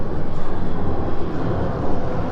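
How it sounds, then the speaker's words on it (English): Aircraft passing overhead in Las Vegas, a steady, loud, broad roar of jet engines that holds throughout with gentle swells and no voices. "that's the numerous planes flying overhead."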